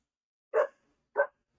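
Two short dog barks, about half a second apart, close and clear with silence between them.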